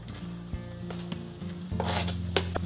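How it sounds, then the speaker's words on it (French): Finely chopped onion sizzles steadily as it browns in olive oil in a pot, a continuous close frying hiss with occasional faint scrapes of stirring. "On commence par faire blondir un oignon finement coupé."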